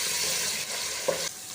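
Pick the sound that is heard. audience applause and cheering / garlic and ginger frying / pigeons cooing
garlic and ginger frying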